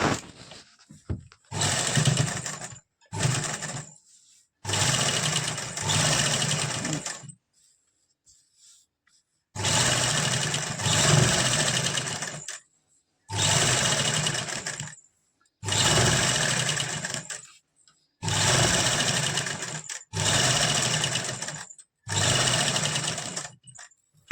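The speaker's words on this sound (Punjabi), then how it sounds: "ਇਹਦੇ ਨਾਲ ਨਾਲ ਸਾਈਡ ਤੇ ਸਲਾਈ ਲਗਾਵਾਂਗੇ ਜਿਹੜੀ ਕਿ ਪੱਕੀ ਸਲਾਈ ਲਗਾਉਣੀ ਆ" A sewing machine stitches a firm seam along the side of fabric for a frock or kameez, running in repeated loud whirring bursts of a few seconds each, separated by short silent pauses.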